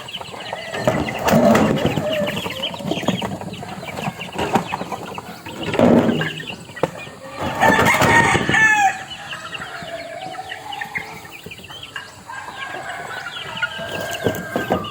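A white Kelso green-legged backyard rooster crows loudly and close by, giving several drawn-out calls spread across the stretch, with clucking and other bird sounds between them.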